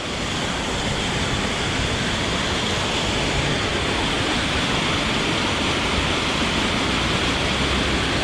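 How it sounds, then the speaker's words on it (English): Steady, loud rush of falling water, a dense continuous roar with no pauses, heard close by throughout. "Hold on, we might get this waterfall."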